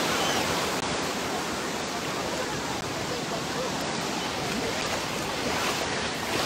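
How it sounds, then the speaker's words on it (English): Ocean surf rolls in steadily on Wildwood beach as the tide comes in, a continuous broadband wash of breaking waves that stays loud and even throughout, with no distinct crashes standing out. "The tide is coming in."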